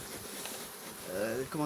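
Honeybees buzz steadily around a hive frame, a close and continuous swarm drone that grows slightly louder near the end as a voice starts to come in.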